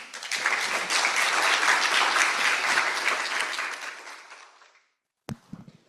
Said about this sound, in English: please give a big round of applause all of the speakers